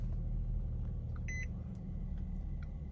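An Infiniti G37S coupe idles with a steady low rumble while a brief high electronic beep sounds from the dashboard, followed by a few faint chirps.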